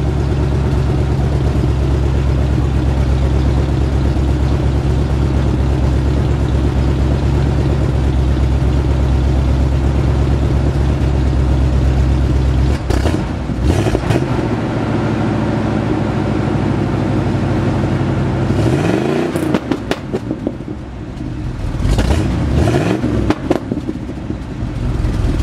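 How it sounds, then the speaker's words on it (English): An El Camino's engine idles with a deep, steady exhaust rumble, then is revved sharply a few times near the end, close to the tailpipe. "do a little exhaust rev"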